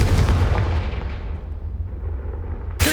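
A Confringo fire spell blast in Hogwarts Legacy gives a loud, booming burst that rolls off into a long rumbling decay, followed by a sharp new hit near the end.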